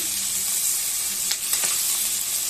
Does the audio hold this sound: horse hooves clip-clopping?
no